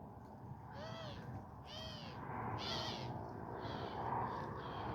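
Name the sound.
doves cooing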